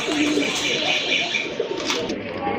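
Pigeons from a farm, a male and female pair, give low cooing calls close by, partly masked by someone talking throughout.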